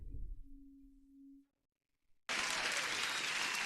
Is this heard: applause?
yes